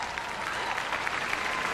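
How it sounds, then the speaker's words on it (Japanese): Audience applause fills an arena at the 2002 World Figure Skating Championships pairs event, a steady, dense wash of clapping that holds at an even level throughout with no voices on top. "また大きな拍手。"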